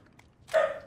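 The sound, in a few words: dogs barking in the background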